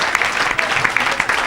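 A crowd claps in a brief, dense burst of applause, loud and close, with individual claps standing out in a quick uneven rhythm.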